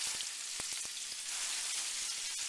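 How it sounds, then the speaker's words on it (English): Food begins to sauté in a hot pan with a steady, dense sizzle and crackle, and a few sharp pops and taps near the start. "Let that start sauteing."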